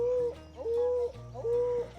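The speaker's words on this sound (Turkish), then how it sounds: "Kuşların sesine bakın ya." Birds call in a Papua jungle, giving three steady, low, cooing notes in an even rhythm. The calls are close and clear, with no voices.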